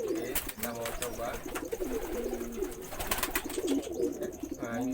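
Pigeons coo in courtship display, a pair among several birds being tested. The coos are repeated and rhythmic, close by and fairly loud, with flapping and scuffling noises mixed in.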